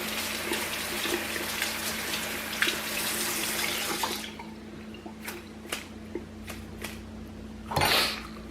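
Tap water runs over celery leaves in a kitchen sink, a steady close splashing stream for about four seconds, then the flow stops, leaving scattered drips and small clinks and a short final splash.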